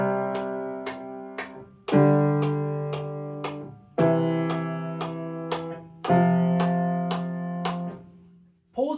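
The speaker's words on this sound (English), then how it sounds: "Let's play all 4 chords back to back. It should sound like this." Piano chords played one after another in a beginner lesson, four sustained chords struck roughly every two seconds, each ringing out and decaying before the next, clear and alone with no talking.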